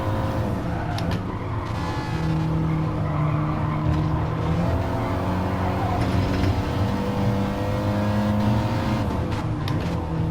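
Race car tires squeal and skid while being warmed up in GT Sport, sustained whining tones sliding up and down over a droning engine, loud and close throughout.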